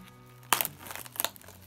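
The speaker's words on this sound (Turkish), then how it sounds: "Şimdi poşetini yırtıyoruz." Plastic packaging bag around a Vortex Venom red dot sight torn open by hand: two short crinkly, crackling bursts, quiet and close, with no talking.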